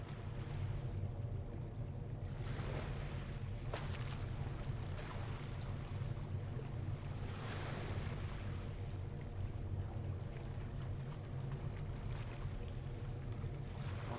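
Steady ocean waves and wind in the Barents Sea from the fishing boat game Deadliest Catch, a continuous low rumbling wash with engine-like drone, unbroken and without voices throughout.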